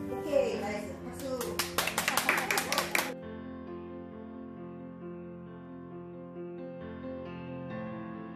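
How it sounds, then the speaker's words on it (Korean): A brief burst of hand clapping from a small group during a hair perm class, a quick run of sharp claps lasting about a second and a half, followed by sustained music-like tones. "박수."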